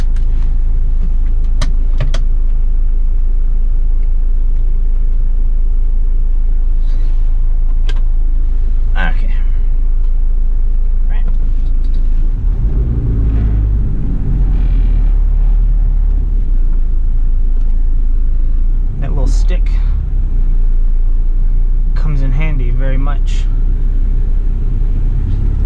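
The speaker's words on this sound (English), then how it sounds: "And the wind noise." Steady wind and road roar fill the cabin of a 1991 Toyota Land Cruiser PZJ70 diesel 4x4 driving with the windows up and the AC on, a constant low rumble with some brief clicks and a voice now and then.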